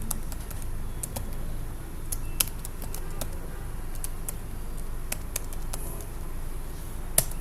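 Someone types a narration into accounting software on a computer keyboard, with steady close key clicks and a few sharper taps that stand out.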